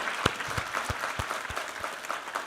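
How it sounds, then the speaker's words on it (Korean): A church congregation claps during a Sunday worship service, a loose burst of applause with several sharper individual claps standing out, moderately distant and steady for a couple of seconds. "우리 하나님께 감사와 영광의 박수 올려드리겠습니다"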